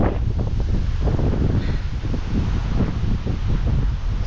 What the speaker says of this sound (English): And look at this wind. It's been blowing like this all day.